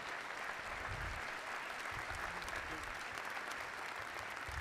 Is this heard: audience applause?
yes